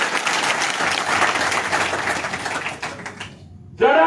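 A crowd at an outdoor farmers' and laborers' rally breaks into loud sustained clapping that thins out toward the end before a voice cuts in.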